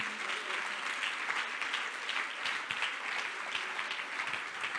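Sustained applause from a church congregation, dense steady clapping filling the whole stretch at an even loudness with no pauses.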